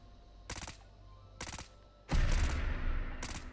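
Pistol shots in VATS targeting in Fallout 4: three sharp, loud reports, roughly one second apart, the last followed by a longer, heavier burst and ringing tail.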